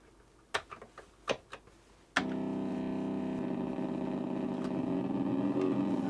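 A few sharp key clicks, then a car engine in a VIC-20 driving video game starts abruptly as a loud, steady buzzing drone that grows slightly rougher as it accelerates.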